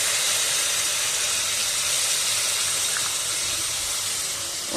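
Thick tamarind water pouring into a pan of fish curry, a steady broad hiss and gush lasting the whole moment, fairly loud and close with no talking.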